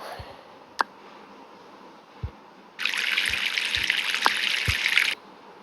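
Water pouring for a drink in the mobile game Avatar World: a steady, bright trickle lasting a couple of seconds, with soft tapping sounds before and during it, fairly quiet and with no talk.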